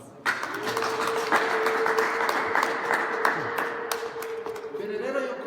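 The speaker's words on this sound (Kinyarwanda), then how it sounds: "Mubaha amashyi rwose." Guests clapping at a wedding ceremony, a steady patter of applause lasting about five seconds with a sustained tone and a few sharp claps standing out.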